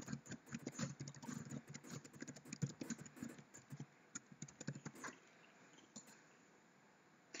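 Rapid typing on a computer keyboard while playing Star Stable, a quick uneven patter of close key clicks that thins out and stops near the end.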